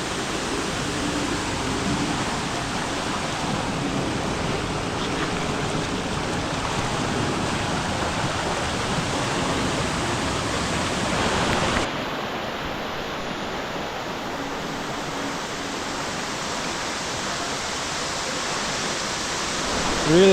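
A rushing waterfall and stream at a hidden Bali beauty spot roar steadily and close up for the whole stretch, a broad constant wash of falling water.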